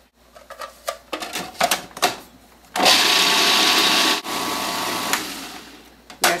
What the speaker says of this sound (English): First, I will grind dal. I am using the food processor.